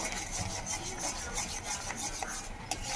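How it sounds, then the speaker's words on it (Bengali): Ripe mango lozenge mixture stirred continuously in a wok over a gas flame, a close, soft scraping and rubbing in a quick repeated rhythm, the spoon brushing the pan with small clicks, no voices. "এবার অনবরত আমি নাড়তে থাকবো"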